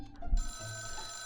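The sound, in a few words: old-school telephone ringing in video game Dial 666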